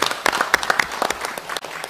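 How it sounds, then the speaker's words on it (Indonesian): Applause for the transport minister in a parliamentary commission meeting, a modest group clapping with distinct, uneven hand claps close by, thinning out toward the end. "Kita kasih tepuk tangan dulu buat Pak Menteri"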